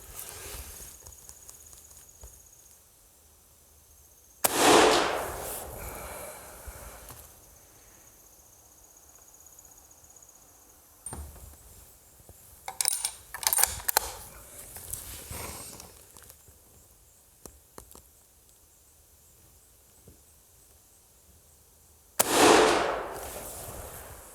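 Shots fire cast lead bullets into a backstop outdoors: one sharp report, then an irregular cluster of several more, and a final loud shot, with insects chirping steadily between them.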